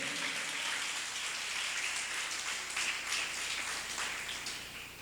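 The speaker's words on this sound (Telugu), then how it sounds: "చప్పట్లు కొడుతుంది." Audience applause during a sermon, a steady dense patter of many hands clapping together, fairly distant and even, fading slightly at the end.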